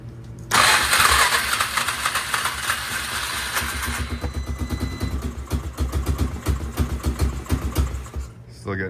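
A Polaris Sportsman 500 ATV engine is cranked and starts, first a loud rough burst, then settling into a fast, pulsing, uneven idle close by, with a voice briefly audible.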